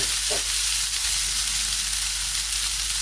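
Pork frying in a pot for chili con carne, a loud, dense, continuous sizzle and crackle of fat that holds close and even throughout, with no talking.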